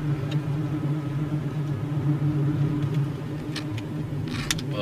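A car driving uphill on a mountain road through maple and oak forest, a steady low engine rumble and road noise throughout from inside the car, with a few faint clicks and rattles near the end.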